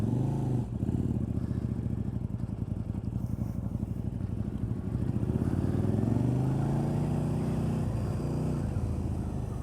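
A KTM RC8 sport motorcycle engine runs steadily close by, a loud throbbing rumble that swells slightly as the throttle is worked.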